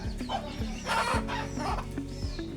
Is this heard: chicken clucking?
yes